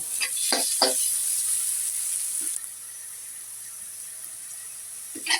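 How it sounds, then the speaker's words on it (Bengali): Onions fry in a pan for beef muitha, a soft hissing sizzle with a few sharp stirring clinks early on, fading quieter partway through. "পেঁয়াজটা ভালো করে ভেজে তারপরে মশলা দেব"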